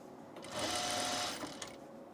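Close, steady whir of a sewing machine running a hem around a tunic edge, speeding up briefly mid-stretch and then easing off.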